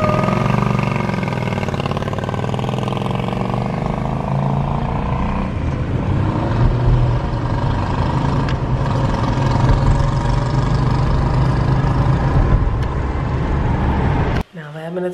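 A motorcycle engine idles steadily after a ride, a continuous low rumble close by that cuts off abruptly near the end.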